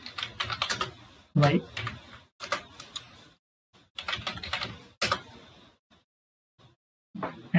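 Keys clatter on a computer keyboard as a command to install NASM through Ubuntu under WSL on Windows is typed, in quick bursts of taps separated by short pauses, with a voice speaking over parts of it.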